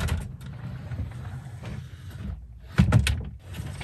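A partition door inside a luxury motorhome slides and shuts with a short, firm thud near the end, after a low, steady rumble of interior background noise.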